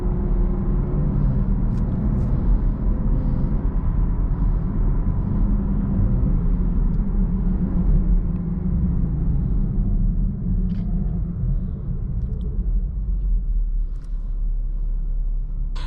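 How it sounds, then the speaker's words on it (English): A 2019 Chevrolet Camaro 1LT with a 10-speed automatic accelerates at full throttle, its engine a loud, continuous low roar and road rumble heard from inside the car, with brief dips where gears change. "Those shifts sound really good when you go like full throttle like that."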